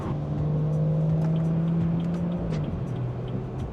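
Car with a B58 engine cruising on a highway, a steady low engine drone heard from inside the cabin with a slight shift in pitch toward the end, no talk.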